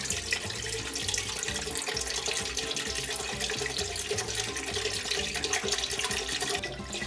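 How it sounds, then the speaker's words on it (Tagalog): Chicken broth pouring into a deep soup pot for Pancit Molo, a continuous splashing, gurgling stream that stays steady and close from start to finish, with no voices. "Maglalagay lang ako ng chicken broth dito sa isang malalim na soup na pot."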